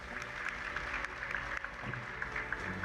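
Graduating students at a graduation and induction ceremony are honored with a fairly faint, steady round of clapping from the audience, dense and even throughout with no voices rising above it.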